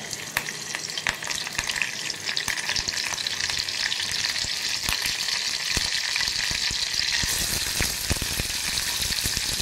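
Curry leaves crackle and sizzle in hot oil for a spicy Maharashtrian prawn masala, a loud, steady frying hiss with sharp spattering pops throughout and no talk.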